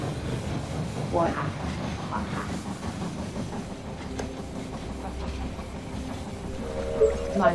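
A train pulls into a station in the zombie strategy game They Are Billions, with a rumbling, clattering rail sound and hiss beneath voices that talk over it, ending in a couple of sharper clanks.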